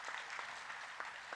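An audience at an LIC of India achievers' meeting in Mangalore gives sparse, faint applause during a speech, with scattered claps heard from a distance and no voices.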